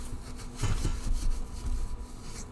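Rhythmic scraping strokes of sandpaper rubbed over a She-Hulk bust, several short rasping passes at close range, moderately loud with no talk.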